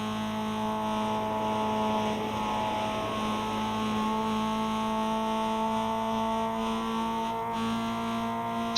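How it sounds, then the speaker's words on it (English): A Mazda car engine drones at high revs near top speed with a steady, strained tone, holding nearly constant pitch throughout. "Hear the poor little Mazda straining itself."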